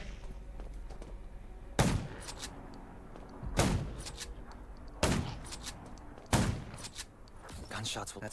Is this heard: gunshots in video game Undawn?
yes